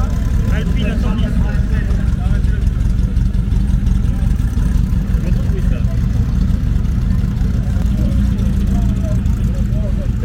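Classic Alpine A110 engine running at a steady, low rumbling idle, loud and continuous, with people talking over it at a collector-car weekend.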